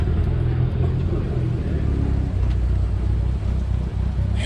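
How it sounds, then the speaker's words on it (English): An American muscle car at a car show, its engine running with a loud, deep, steady rumble throughout, some outdoor crowd noise mixed in. "This is what real American muscle sounds like here."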